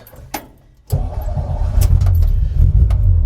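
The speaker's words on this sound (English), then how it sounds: "Let's warm up the motor." A 1956 Volkswagen air-cooled engine cranks and catches, a brief click and rattle first, then a steady low rumbling idle that holds loud and close through the rest.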